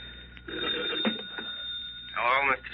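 A telephone rings repeatedly in a quiet room, its bell close and clear over a faint background hum, with no talk.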